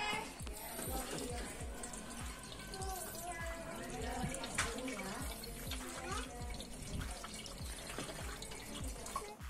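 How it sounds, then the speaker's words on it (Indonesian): Water is poured from a dipper into the emptied windshield washer reservoir of a Suzuki Splash, a continuous close splashing and gurgling stream with faint background voice. "air washernya kita kuras semua, jadi sekarang kita harus tambahkan pakai gayung ya"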